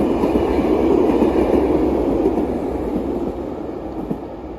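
Passenger rail car rolling through Luxembourg, a steady loud low rumble of the moving train heard from inside, fading slightly toward the end.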